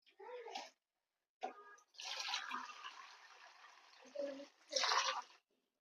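Cold water runs from a tap in a home kitchen, coming in separate gushing bursts of steady hiss with short pauses between them. Brief voices are heard at moments.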